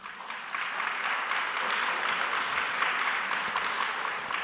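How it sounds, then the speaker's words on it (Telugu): A church congregation clapping loudly for Job during a sermon, a dense, sustained round of applause from many hands that holds steady throughout. "యోబు కొరకు గట్టిగా చప్పట్లు కొట్టండి."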